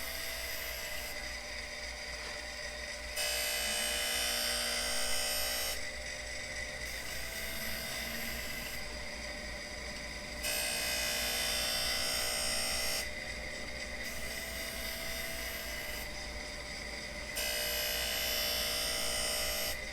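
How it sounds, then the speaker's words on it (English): A Harig Super 612 surface grinder runs on its first test after storage, giving a steady high-pitched whine and hiss. The tone shifts in regular cycles every few seconds as the table traverses. "a small grinder like this is better than not having one at all"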